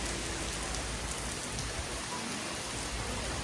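Heavy rain pours down in a dense, even roar of drops hitting surfaces nearby, loud and unbroken throughout.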